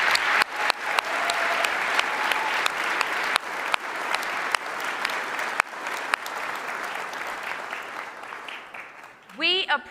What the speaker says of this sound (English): let's give a big round of applause to Wilmar